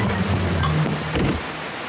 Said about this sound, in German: Es wird bestimmt gleich regnen.